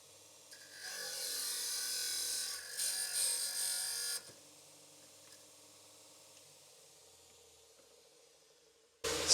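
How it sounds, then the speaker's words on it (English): A small cutting machine slices through a graphite golf fairway shaft, a close, high-pitched whirring grind lasting about four seconds before cutting off, followed by quiet and a brief knock at the end. "We've got a little cutting machine here. It's very good. It'll give a nice clean cut."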